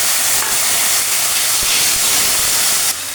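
Tomato dropped into hot oil in a wok with bay leaves and chillies, a loud bright hissing sizzle that holds steady for about three seconds before settling down.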